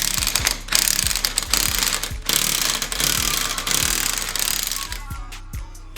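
Ratchet clicking in repeated bursts while tightening the nut on a Koni Yellow shock absorber for a Porsche 944, close and loud over steady mechanical background noise, with short pauses between strokes.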